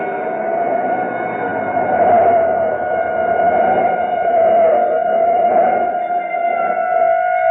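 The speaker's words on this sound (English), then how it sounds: "a police siren a block behind" A police siren wails steadily at close range, its tone wavering slightly as it holds loud and continuous with no talking.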